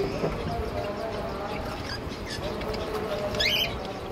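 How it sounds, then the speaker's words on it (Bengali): Small parrots in an aviary, budgerigars with cockatiels nearby, give faint high chirps and a brief twittering burst over a steady background hum, with low murmuring voices throughout. "Running pair Baazigar."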